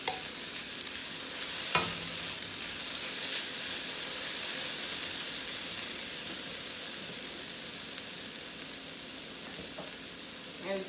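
Lobster tails frying with bacon fried rice in a pan give a steady, even sizzle throughout, with a couple of sharp clinks from a utensil near the start.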